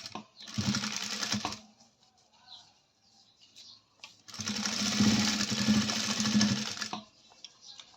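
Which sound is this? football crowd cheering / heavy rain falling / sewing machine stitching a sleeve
sewing machine stitching a sleeve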